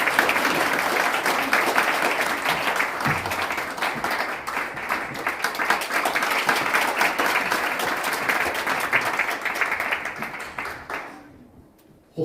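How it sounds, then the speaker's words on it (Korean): Sustained applause from a conference audience in a forum hall as Hwang Kyo-ahn is welcomed to the stage; dense steady clapping fills most of the stretch, then fades out quickly near the end. "큰 박수 부탁드립니다."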